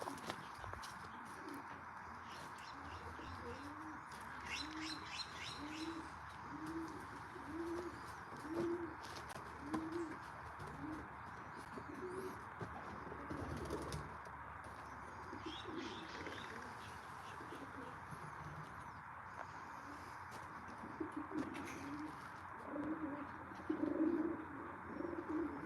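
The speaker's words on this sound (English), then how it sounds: "No, Ralph, I only fly the pigeons once a day for 45 minutes to 1 hour" Racing pigeons coo steadily at their loft, soft repeated low calls overlapping in a continuous murmur, with occasional chirps from other birds and a faint constant background hum.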